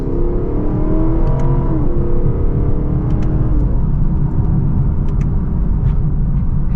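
Naturally aspirated Lexus V8 in an LC500 or RC F track car, accelerating hard on a circuit in second gear in Sport Plus mode, a loud, steady, rising engine roar heard from inside the cabin with no speech.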